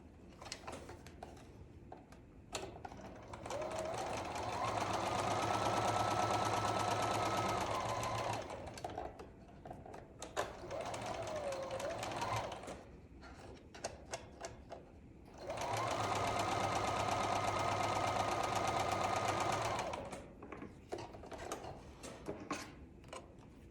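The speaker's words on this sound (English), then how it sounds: "And then I can sew these 2 together." A sewing machine stitching quilt pieces together runs in three bursts, a steady close mechanical whirring hum with rapid needle ticking, separated by quieter pauses with small handling clicks.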